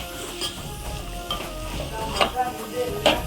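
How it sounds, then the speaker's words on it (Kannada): Potatoes fry in a pan for a mushroom gravy, a steady sizzle punctuated by several sharp spatula scrapes and clinks at irregular intervals, close and moderately loud. "ಇವಾಗ ಆಲೂಗೆಡ್ಡೆ ಹಾಕ್ಕೊಂಡ್ಮೇಲೆ ಚೆನ್ನಾಗಿ ಫ್ರೈ ಮಾಡ್ಕೊಬೇಕು 2 ಮಿನಿಟ್ಸು"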